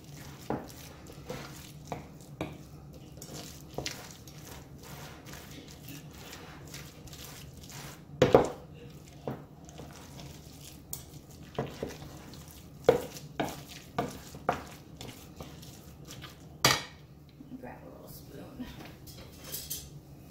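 Crab dip mixture worked in a bowl gives soft, scattered scrapes and clinks of a utensil against the bowl, fairly quiet and irregular, with a person talking at times.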